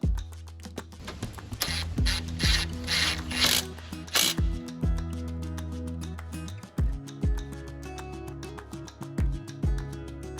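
A ratchet tightens the nut on a front sway bar link fitted into the strut of a 2011-2014 Hyundai Sonata, with rapid close pawl clicks in repeated strokes and brief metallic knocks between them.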